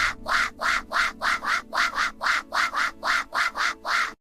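A flock of ducks quacks loudly together in a rapid, regular series of about fourteen harsh honking calls, close and insistent, with no talking.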